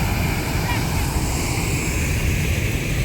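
Water rushes steadily and loudly at a scenic temple spot, a continuous broadband roar with no pauses or breaks.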